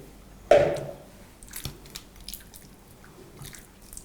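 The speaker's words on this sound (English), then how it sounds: "we're gonna now pour our marinade over the chicken" Marinade is poured over chicken in a sudden wet splash, followed by softer squishing and dripping sounds nearby.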